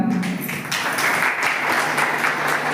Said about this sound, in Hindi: मेहमानों का करें हम तालियों से वेलकम।